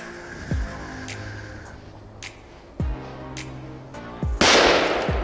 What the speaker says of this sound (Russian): Поджигаю, надеюсь, что петарда разрушит лед.